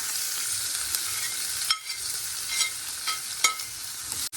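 Chopped onion fries with ginger in a pan for seer fish red curry, giving a continuous soft hiss with occasional utensil scrapes and taps while stirring, moderately quiet and close.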